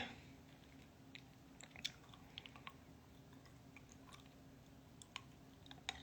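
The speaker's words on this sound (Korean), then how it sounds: "사탕 먹고 있어" Quiet crunching and chewing of candy close to the mic, with scattered small clicks and bites over a low steady background hum.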